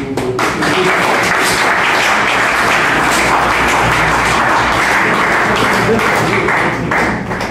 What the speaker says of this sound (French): je vais simplement demander à nous applaudir nous tous